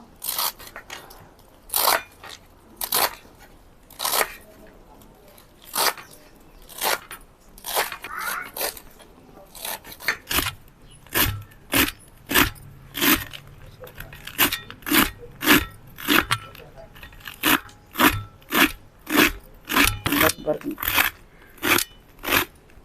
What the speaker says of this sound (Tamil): கீரை வந்து இந்த மாதிரி நல்லா பொடியாக கட் பண்ணிக்கணுங்க